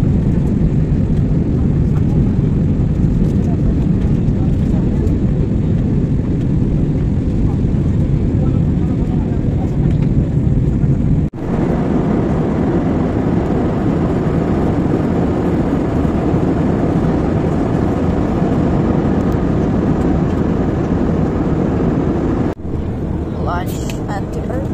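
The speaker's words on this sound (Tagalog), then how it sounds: "dito sa aeroplano." Inside an airplane cabin in flight, a loud, steady engine roar drones without pause, with two brief cuts in the recording and a faint voice near the end.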